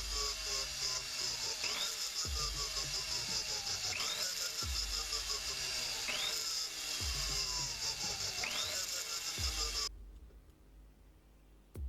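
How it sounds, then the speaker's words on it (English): A rotary burr grinds concave curves into the ends of the walls of silver chain hinges, the whine rising and dropping in repeated passes of about two seconds, close and steady, before it cuts out. "burr a concave curve on the ends of the walls so the hinges can move freely"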